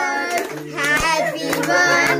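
Hands clapping at a birthday celebration, a scattered burst of claps from a small group mixed with voices and chatter nearby.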